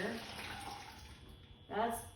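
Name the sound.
pouring water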